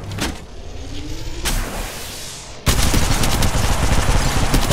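Gunfire in Apex Legends Mobile, with a few sparse shots and a swelling whoosh before a sudden dense, loud barrage of rapid automatic fire that runs to the end.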